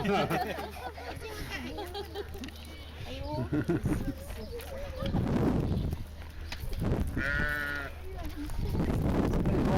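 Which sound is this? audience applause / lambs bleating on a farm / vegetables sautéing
lambs bleating on a farm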